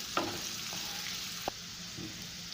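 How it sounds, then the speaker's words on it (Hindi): Spring onion greens sautéing in a pan give a steady low sizzle, broken by a few soft clicks and scrapes of stirring, with no one speaking. "2 मिनट के लिए सौते करेंगे हम।"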